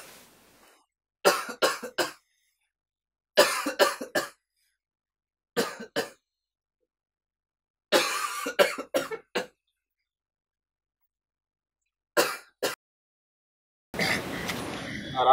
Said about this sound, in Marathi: दोन हप्त्याच्या वर झाले पण खोकला काही ठीक होत नव्हता